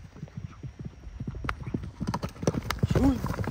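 A horse's hooves clip-clop in a quick irregular beat, moderately close, with a brief whinny near the end and people talking over it.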